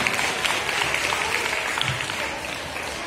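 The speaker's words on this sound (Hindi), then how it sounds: "जोर से ताली बजाना है लास्ट।" Sustained applause from a crowd at a school prize ceremony, a steady dense clatter of many hands clapping that holds at even strength throughout, with faint voices mixed in.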